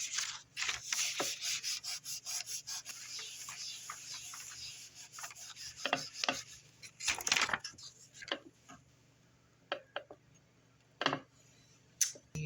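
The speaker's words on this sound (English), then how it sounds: "And then we need to burnish that." Close, quiet rubbing strokes over a polymer clay pendant, rhythmic at first and then broken into scattered scrapes and light taps with gaps between them.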